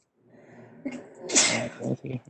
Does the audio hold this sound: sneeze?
yes